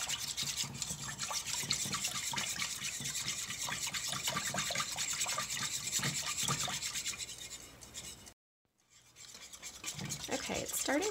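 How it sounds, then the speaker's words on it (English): A whisk scrapes briskly and continuously through thick popover batter in a pot, a close, rapid rubbing rhythm that stops abruptly for a moment before resuming. "And just keep whisking it so that we don't get lumps."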